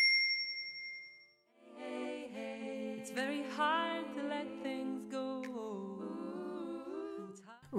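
A notification bell dings once with a clear, ringing tone in a cooking show, followed by a bright run of chiming, tinkling notes that fade near the end.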